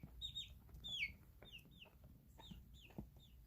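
A pet chick named Kagome chatters close by in a string of short, high, falling cheeps, several quick calls at a time, over a soft low background rumble.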